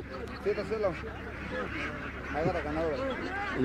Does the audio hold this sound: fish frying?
no